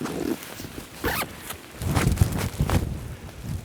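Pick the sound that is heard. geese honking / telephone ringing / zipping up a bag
zipping up a bag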